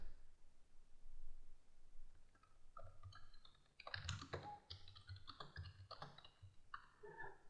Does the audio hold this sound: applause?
no